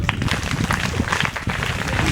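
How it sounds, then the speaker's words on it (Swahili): Applause at a primary school gathering honouring a police officer, a crowd clapping vigorously with uneven bursts, fairly loud and close, with some voices mixed in. "Naomba tumpigie afande OCD makofi mengi"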